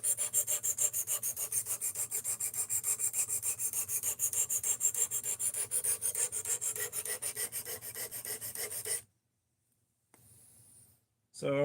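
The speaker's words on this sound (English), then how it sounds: "So we're getting her sharpened back up." Blade of a Divo Growler knife sharpened with fast, rhythmic rasping strokes, close and steady for several seconds, then a pause and a brief final stroke.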